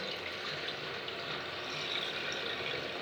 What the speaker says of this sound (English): So let me change the water again.